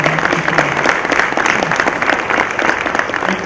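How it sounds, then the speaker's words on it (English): An audience at a Connecticut water awards ceremony applauds senators and a state representative. Loud, dense clapping from many hands continues steadily throughout, close and unbroken. "let's give them a round of applause"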